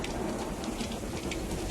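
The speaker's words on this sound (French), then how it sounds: "Il pleut." Steady rain at a rented holiday house on Belle-Île-en-Mer, Brittany, a continuous even hiss of falling drops with no gaps, no voices over it.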